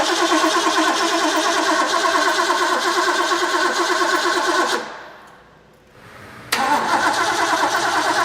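Old car engine in a restoration build cranking loudly on the starter in a fast, steady churn for several seconds, then stopping briefly before cranking again, close by with no talk.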